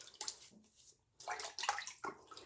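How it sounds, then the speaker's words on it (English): Hot water from a full bathroom sink is splashed onto a face before a wet shave. It comes in a few close, wet sloshes and splashes with short pauses between them. "Let me get my face wet here."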